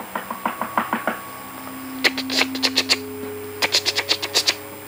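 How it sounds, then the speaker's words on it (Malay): Knocking on a house door in the dark during a blackout: quick loud raps in rapid bursts, several series of sharp knocks with brief pauses between, close and clear with no talking. "bunyi ketukan and bunyi orang nak gegar pintu rumah"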